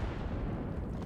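A frag grenade goes off in a competitive tactical shooter match, a low, dense rumbling blast filling the whole short moment at steady loudness, with no talk over it.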